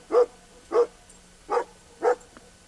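A search dog in Arizona gives an alert of four evenly spaced barks, clear and fairly close, with no talking.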